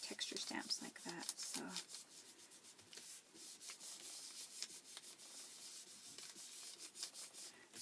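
Paper being rubbed by hand against a canvas, a soft, close, continuous brushing and scratching with irregular strokes, faint overall, with some brief louder scuffs near the start.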